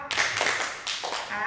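A group of women standing in a clapping game claps together, making two sharp bursts followed by more claps, close and loud and recorded indoors.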